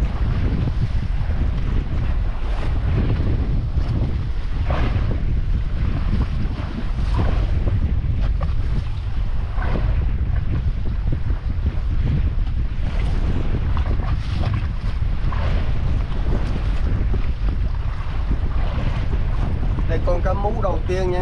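Strong wind and rough sea waves buffet a small fishing boat offshore, a constant loud roar of gusts and sloshing water with microphone wind buffeting throughout, and a voice speaking briefly.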